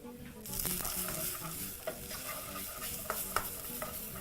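Curry powder, turmeric and a small pinch of paprika fry in a pan for a peas stew, a steady close sizzle with scraping stir strokes and occasional sharper clicks throughout.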